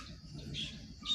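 A bulbul near its nest gives a brief, faint, high chirp over a low, murmuring background.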